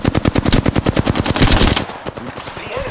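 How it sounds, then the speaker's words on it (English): Rapid automatic gunfire from enemies in the battle royale shooter Apex Legends, a loud, fast burst of evenly spaced shots lasting nearly two seconds, then cutting off into quieter game ambience. "The enemies are shooting at me."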